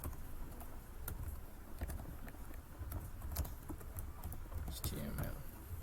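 Soft rapid keystrokes on a computer keyboard while HTML code is typed in Notepad++, a quiet steady patter of clicks with a few sharper taps, close and low in level with no one speaking.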